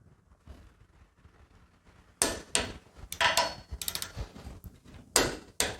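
A nut is tightened on the sprocket kit of a Pulsar 200 NS motorcycle, heard as a quiet start followed by a close cluster of sharp metallic clicks and knocks in irregular bursts, with no talking.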